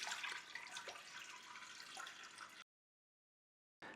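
Water pours steadily into the bowl of an Ooni Halo Pro dough mixer for pizza dough, a bright continuous splashing stream that stops abruptly partway through, then briefly resumes.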